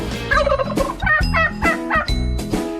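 Several loud turkey gobbles ring out close by, rapid warbling calls repeating in bursts across the whole stretch, with no talking over them.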